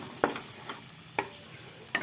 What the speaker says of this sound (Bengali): এই যে ডিমটাকে এখন ভালো করে ঝুরি করে নেব।